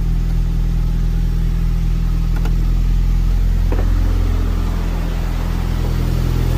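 A 1987 Toyota MR2 with a 4A-GZE engine swap idles steadily at close range, a low continuous rumble with no voices.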